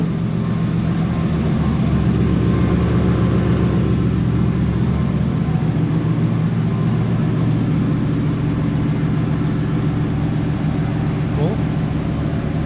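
A Chevy Suburban with a 454 engine idles steadily up close, its low, continuous rumble holding through the whole stretch with a slight rise as it is revved with gas.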